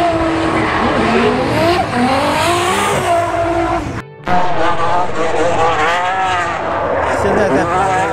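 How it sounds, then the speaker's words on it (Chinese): A supercharged 850-horsepower Ferrari 599 drifts on a track, its engine howling loudly through rising and falling revs with a brief cut partway, while someone talks over it. "现在在跑这个法拉利的五九九"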